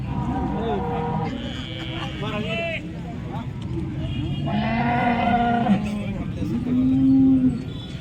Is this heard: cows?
yes